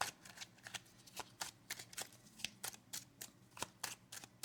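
A Kipper fortune-telling card deck being shuffled, with a run of crisp, rapid riffles and snaps in an irregular rhythm, close and moderately loud, with no talking.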